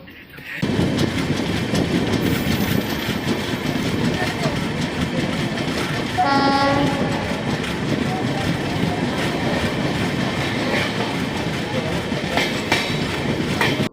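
The Chauri Chaura Express pulls into Khaga railway station with rumbling wheels and clattering carriages, a short tonal horn-like blast midway, and a murmur of voices underneath.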